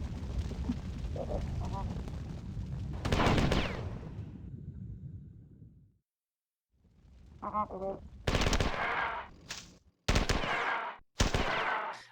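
Weapon fire in Marathon 2: Durandal: loud, sharp gunshots and rapid bursts, several separate volleys broken by short silences, with game tones in between.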